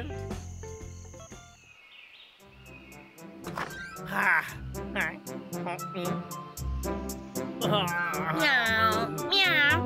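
Cartoon cat meowing in an animated children's comedy, several bright meows amid music and sound effects, with character voices speaking around them.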